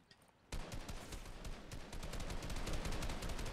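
Gunfire in the video game Fortnite: after a quiet moment, rapid, loud bursts of shots crackle in quick succession, forming a dense, continuous volley with no talking.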